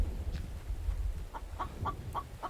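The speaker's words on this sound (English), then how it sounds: "We're going to have to let that chicken go on its merry way." Chicken clucking in the video game The Infected, a series of short repeated clucks in a steady rhythm over a low ambient rumble, fairly faint and at mid distance.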